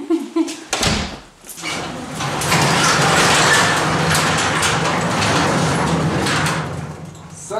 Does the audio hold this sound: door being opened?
yes